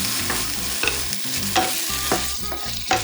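Fiddleheads sizzling in a hot pan over high heat, a loud close crackling fry with rhythmic stirring scrapes roughly every half second and a steady low rumble beneath, no talk.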